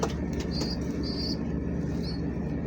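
Pigeons shuffle and flutter briefly inside a breeder loft, with soft wing flaps and faint chirps over a low steady background hum.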